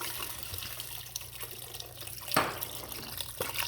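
Beef broth pours into a pot of sautéed vegetables and red wine for braised short ribs, a soft liquid splash and gurgle with a brief louder gush midway, close and fairly quiet.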